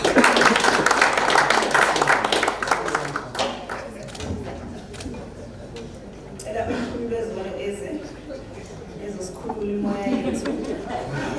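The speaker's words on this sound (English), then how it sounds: "You can give him a round of applause." An audience at a conference launch gives the ambassador a round of applause, with clapping and chatter at first, then thinning into scattered claps and murmuring voices.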